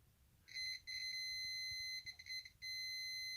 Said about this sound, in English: we should hear a tone when we touch both of these leads